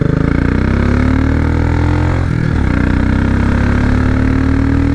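A Royal Enfield Continental GT 535 single-cylinder motorcycle engine held at high revs close to the redline, a loud steady thrum that dips briefly midway and then climbs again, with no voices.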